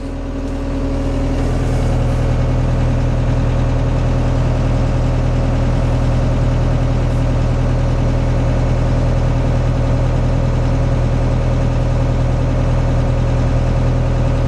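A New Holland T4 tractor's engine idles steadily at about 1200 rpm, a constant mid-low drone with a faint whine on top, loud and close, with no talking.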